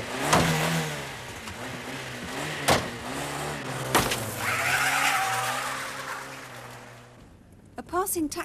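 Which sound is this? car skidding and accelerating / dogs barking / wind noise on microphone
car skidding and accelerating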